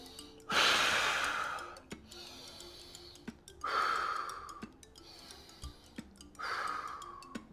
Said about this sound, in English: let's take a couple deep breaths here